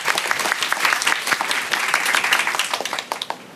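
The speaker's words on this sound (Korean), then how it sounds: "박수로 맞아주십시오" Sustained audience applause welcomes a farmer speaker to the stage, a dense wash of many hands clapping steadily for several seconds at close range, with no talking over it.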